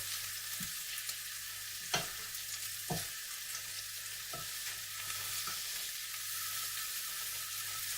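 Turkey meatballs sizzle and brown in a pan with a steady, moderate frying hiss, punctuated by a few light clunks as they are turned.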